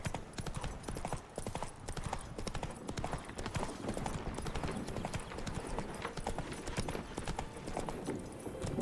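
Roach the horse galloping in the video game The Witcher 3, a fast rhythmic clip-clop of hooves, close and continuous throughout with no talking.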